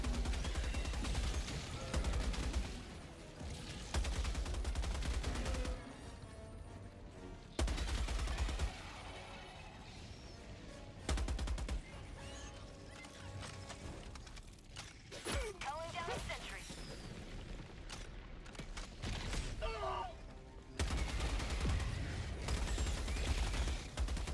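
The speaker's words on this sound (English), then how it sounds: "Oh, I have a heavy machine gun." Heavy machine gun fire in Helldivers 2, long rattling bursts broken by short pauses, mixed with game effects and loud chatter from players talking throughout.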